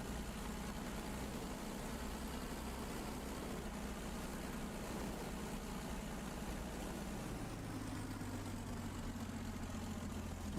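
A P-51D Mustang's piston aircraft engine growls in a continuous, even drone, its low rumble steady throughout with a slight shift in tone late on, and no talking over it.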